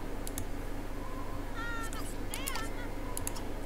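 A cat in The Sims 2 video game gives a few short meows over a steady low hum, with faint keyboard clicks in the background.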